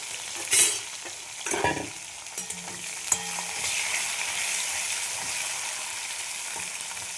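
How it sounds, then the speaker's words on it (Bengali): Bitter gourd pieces frying in hot oil with a bay leaf and dried red chilli, a steady close sizzle with a few clattering stirs near the start, no talking. "দিয়ে দিলাম উচ্ছে, উচ্ছে ভেজে নেব"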